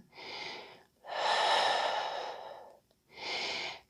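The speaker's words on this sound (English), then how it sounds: "Breathing here in Parsva Konasana." Close, deep breaths are heard during a yoga side angle pose: a short inhale, a long drawn-out exhale, and then another inhale. The breathing is clear against near silence, with no talk.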